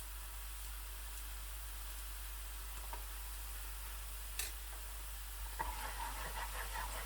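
Onions and garlic fry gently in a pan with a low, even sizzle over a steady background hum, joined by a few faint scrapes and crackles toward the end.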